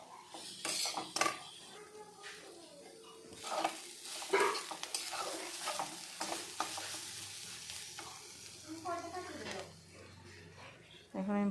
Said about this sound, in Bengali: দিয়ে আমি কতক্ষণ আবার এটা ভাজবো।